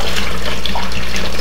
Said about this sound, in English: I will put 5 gallons of water in this bin.